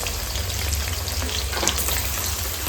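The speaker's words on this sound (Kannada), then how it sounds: "ಚೆಂದ ಫ್ರೈ ಮಾಡ್ಕೊಳ್ಳೋಣ." Two chopped medium onions frying in a pan for pepper chicken fry, giving a loud, steady, close sizzle with faint crackles throughout.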